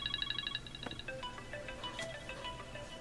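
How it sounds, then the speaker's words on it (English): A bright, chiming iOS 7 iPhone ringtone plays: a quick run of repeated high tones, then a shifting melodic pattern, steady and fairly close, with no talking. "you've got some new ringtones in here"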